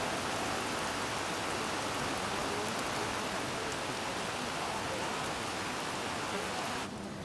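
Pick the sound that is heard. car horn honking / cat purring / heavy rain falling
heavy rain falling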